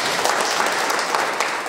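Brief burst of applause from a workshop audience approving the PDC4 development plan of the commune of Bohicon by acclamation, dense and even clapping with no voices.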